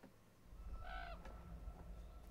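A raven in The Quarry horror video game gives one short, hoarse caw, fairly faint against a low rumbling ambience, with no talking.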